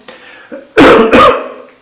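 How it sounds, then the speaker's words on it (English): Two loud, harsh coughs in quick succession from a person sick with the flu, following a faint breath or two and fading into quiet room tone. "I'm still coughing, still have the flu"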